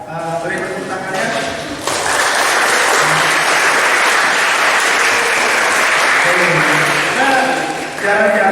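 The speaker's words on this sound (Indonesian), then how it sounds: "Beri tepuk tangannya." A school audience bursts into sustained, dense applause at a student seminar, loud and steady for several seconds, with a speaking voice audible before and after the clapping.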